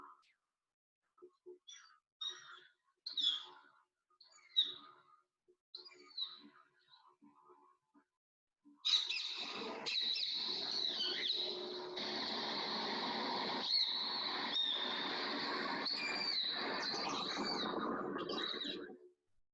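Sparse chirps at first, then a continuous run of harsh, high ring-necked parakeet squawks and screeches played from a phone, slightly tinny and modest in volume.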